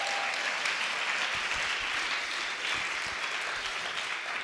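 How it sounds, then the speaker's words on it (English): An audience at a CreativeMornings New York talk applauds, a dense, steady wash of clapping that stays even and fairly loud throughout, with no speech over it. "Can we give another round of applause for this wonderful experience?"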